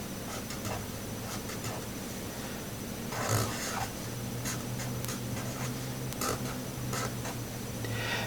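A pen scratches across paper as chemistry notes are copied down by hand, a run of quick close strokes with short pauses, over a faint steady hum.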